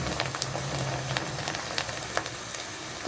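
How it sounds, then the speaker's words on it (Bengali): Bati jhikmik pitha, a traditional Bengali Eid cake, fries in hot oil in a pan with a steady, soft sizzle and scattered small crackling pops, with no talk over it. "এখন আমি এই যে পিঠাটা ভাজা শুরু করব"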